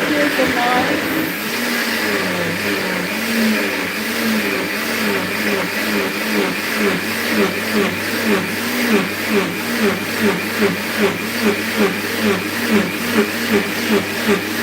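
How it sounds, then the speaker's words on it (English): A blender runs in a kitchen during cooking, with a loud, steady motor whir that pulses rhythmically as it chops, while voices speak briefly over it. "I'm trying to blend."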